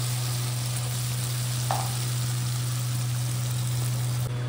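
Spice paste for a Bengali mustard poppy seed pomfret curry fries in a pan with a steady, even sizzle, continuous and fairly loud against a low constant hum.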